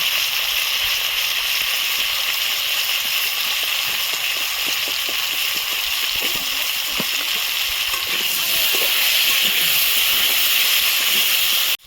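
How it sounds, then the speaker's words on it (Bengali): Potatoes fry in hot oil after fish in the same pan, giving a steady, loud, close sizzle and crackle with scattered pops, no talk throughout. "এই তেলতে আমি আলুটা ভেজে নেব"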